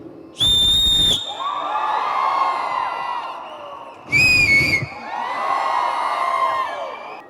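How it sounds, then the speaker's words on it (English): Two loud, shrill whistle blasts ring out from a crowd at a mall celebrity visit, each followed by sustained cheering and whooping from many people. "I just want to greet you with a whistle."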